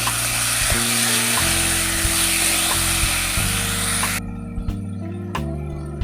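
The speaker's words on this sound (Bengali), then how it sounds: "এইবারে দুটো মিডিয়াম সাইজের টমেটো দিয়ে দেবো মশলাটা খুব ভালো মতন কষাবো" Tomatoes fry with ginger-garlic paste in hot oil, giving a loud, dense, hissing sizzle close up over a steady humming tone. The sizzle drops away abruptly about two-thirds through, leaving the hum and a few faint clicks.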